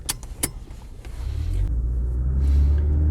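A Honda Civic 1.4i pulls onto a main road. A few light clicks and taps come first, then a low engine rumble swells and holds steady, heard from inside the car.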